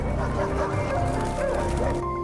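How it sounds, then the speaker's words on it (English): A pack of wild dogs in an apocalyptic wilderness film barks and yips excitedly, with overlapping calls and whimpers over a low rumbling background, fairly close and continuous. "before they can fight, the wild dogs return"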